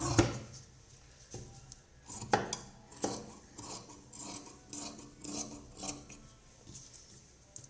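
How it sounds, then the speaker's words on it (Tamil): Scissors cut through blouse fabric in a series of close, raspy snips and rubbing scrapes, irregularly spaced, with occasional sharper clicks and no talking. "இந்த ப்ளவுஸை நம்ம கட் பண்ணி எடுத்துருவோம்"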